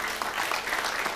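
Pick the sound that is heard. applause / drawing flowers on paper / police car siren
applause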